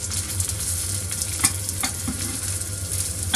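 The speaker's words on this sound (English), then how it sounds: "The pheasant breast in a pan for 5 minutes on each side for nice coloration." Pheasant breast sizzles steadily in a hot pan, a close, continuous frying hiss broken by a few soft clicks and scrapes from turning or stirring.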